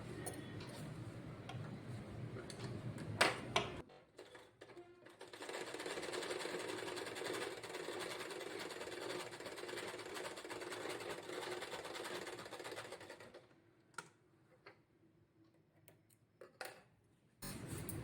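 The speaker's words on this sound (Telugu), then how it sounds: "కట్ చేసుకున్న తర్వాత దీన్ని కూడా ఇలా స్టిచ్ చేసేయాలి" A sewing machine stitching cloth lining for a pocket wall hanger made from fabric scraps, running steadily for about eight seconds, with scattered clicks and handling noises before and after.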